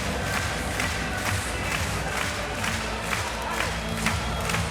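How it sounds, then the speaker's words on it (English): A volleyball arena crowd at a Bulgaria vs Germany Olympic qualification match cheers and applauds steadily in a loud, dense roar that fills the hall throughout. "they go over to applaud the travelling spectators who've been a credit to themselves"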